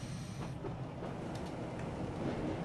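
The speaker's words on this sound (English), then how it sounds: "the train's going over the bridge" Train crossing a bridge in the Train Simulator game on the Swanage and Knollsea joint railway route, a steady low rumble of wheels with faint clattering, continuous and moderately quiet, no voices.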